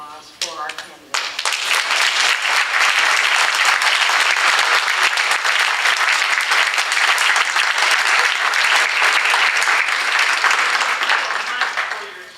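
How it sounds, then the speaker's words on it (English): A large audience at a mayoral candidates' forum in St. Pete bursts into loud, sustained applause and clapping for the candidates. A brief voice comes just before it, and the applause holds steady for about eleven seconds before tapering. "I'd like you to join me in sending a very, very warm round of applause for our candidates."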